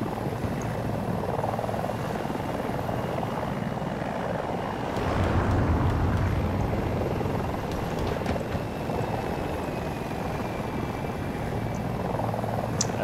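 An MI-240 Super Hind helicopter in the video game Battlefield 2042 drones with a steady rotor and engine roar, loud and continuous, swelling slightly midway, with no voices.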